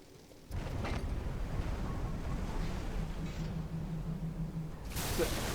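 An airplane in the video game Bioshock drones as a steady broadband rumble with a low hum, starting abruptly and ending in a brighter rushing burst.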